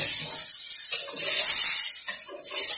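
Water splashed into hot oil with red spices in a cooking pot for chicken korma, giving a loud, steady hissing sizzle that swells and dips slightly throughout.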